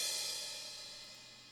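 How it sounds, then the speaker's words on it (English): A slow crash cymbal sample from an FL Studio beat rings out alone, a bright shimmering wash that decays gradually across the whole moment. "I have a crash as well. This is like a slow crash"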